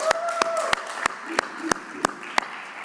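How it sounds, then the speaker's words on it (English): A handful of sharp, evenly spaced hand claps, about three per second, ring out at an event where the audience is called on to applaud, over a faint tonal hum and murmur. "Can I have a round of applause?"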